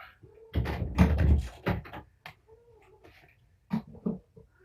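Kittens and their mother cat, Patience's litter, meow close by in a few short bursts, one louder cluster early and softer cries near the end, with quiet pauses between.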